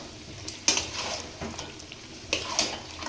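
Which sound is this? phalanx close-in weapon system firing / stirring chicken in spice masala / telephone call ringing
stirring chicken in spice masala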